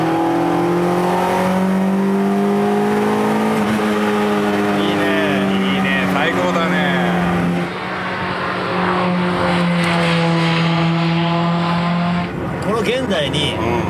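Toyota AE86 with a carbureted 4A-G engine lapping Tsukuba Circuit, its engine note rising and falling steadily in the cabin over continuous in-car talk between two men.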